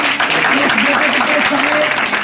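A church congregation at a Hindi-language praise service breaks into loud, dense clapping for Jesus Christ, a continuous wash of hands with voices audible beneath it.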